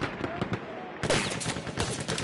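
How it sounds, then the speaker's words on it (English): Rapid bursts of machine gun fire in a Battlefield 1 multiplayer match, loud and continuous with a sharp jump in intensity partway through, layered over battlefield noise. "Machine gun! One of theirs!"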